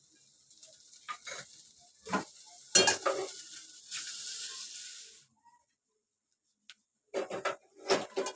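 Sauce for cabbage vadi being stirred in a pan, with a run of scraping, clattering spoon strokes at close range, a quiet pause, then another quick burst of stirring.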